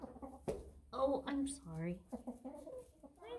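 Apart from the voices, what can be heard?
chickens clucking in nest box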